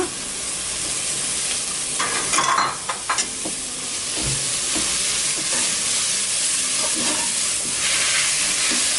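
Fish biryani ingredients with coriander and mint being stirred in a hot pan: a steady loud sizzle and hiss throughout, broken by scraping stir strokes and a few clanks of the spoon.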